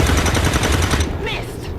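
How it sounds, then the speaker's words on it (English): Overwatch gunfire in the video game XCOM 2, a rapid burst of loud, evenly spaced shots for about a second, then a quieter swooshing effect as the firing stops. "Give us some of those sweet, sweet Overwatch shots you did before."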